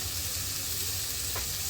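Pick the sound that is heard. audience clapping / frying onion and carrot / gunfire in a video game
frying onion and carrot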